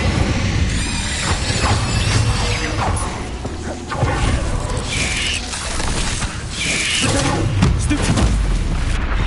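Incendio fire spell blasts in Hogwarts Legacy, loud repeated booming bursts and crackling whooshes over a busy, dense battle background.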